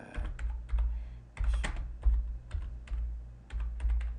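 A command is typed on a computer keyboard, with quick, close clusters of clacking keystrokes broken by short pauses and no talking.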